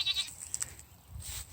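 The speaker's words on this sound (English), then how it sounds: "that's the goats" Goats in a pasture bleat in a short, brief burst, a couple of cries close by against faint outdoor background, with no talk.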